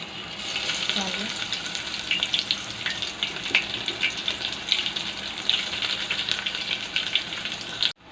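Fenugreek, cumin and mustard seeds frying in hot oil for a village-style dry fish curry, a dense continuous crackling sizzle with small popping bursts, close and steady throughout, no talking.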